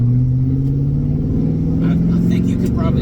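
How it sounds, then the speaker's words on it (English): A supercharged Mazda Miata running motorcycle baffles in its exhaust drones steadily and aggressively up close while idling or creeping through town, a continuous low growl with a faint voice near the end. "I think you can probably hear the exhaust. It's got a very aggressive note."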